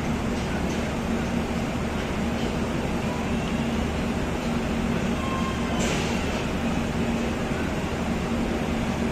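The Howrah–Pune Azad Hind Express rolls along at night, heard from inside an AC 3-tier coach as a constant, loud rumble of wheels and carriage with a steady air-conditioning hum beneath it and a faint passing rattle midway.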